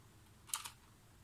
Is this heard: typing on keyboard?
yes